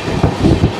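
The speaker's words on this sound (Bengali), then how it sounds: "12370 ডাউন দেরাদুন থেকে হাওড়াগামী কুম্ভ এক্সপ্রেস" The 12370 Dehradun–Howrah Kumbh Express passes close by, a brief burst of loud rumbling and wheel clatter on the rails.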